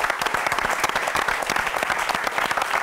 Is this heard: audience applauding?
yes